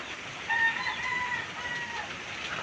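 A chicken's calls ring out over a steady wash of floodwater background noise, with a few drawn-out vocal notes through the middle of the clip.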